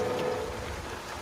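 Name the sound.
rain in a movie scene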